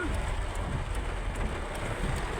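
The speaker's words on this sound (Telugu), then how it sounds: "సడన్గా స్టార్ట్ అయిపోయింది వాన, బీభత్సంగా పడుతుంది" Sudden heavy rain falls at night in the Jahra area of Kuwait, a dense, steady hiss of downpour with faint patters, and no talking.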